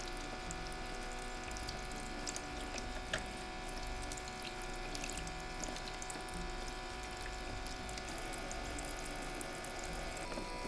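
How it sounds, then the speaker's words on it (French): Vegetables are rinsed a second time under a running kitchen tap to wash off soil, making a steady, continuous stream of water splashing into the sink with faint drips and no talking. "on va relaver nos légumes une deuxième fois sous l'eau pour bien enlever toute la terre"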